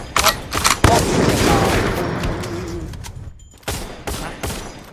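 Rapid gunfire from the mobile battle royale game Free Fire, with loud, close, sustained bursts of shots, then a pause and a few more sharp volleys.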